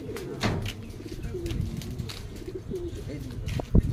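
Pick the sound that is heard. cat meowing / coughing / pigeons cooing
pigeons cooing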